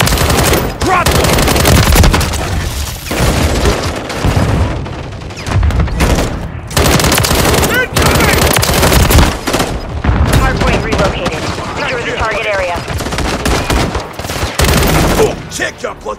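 Gunfire in a Call of Duty match: loud, sustained bursts of automatic weapons and booming shots in rapid clusters with short gaps, shouted voices mixed in amid the battle.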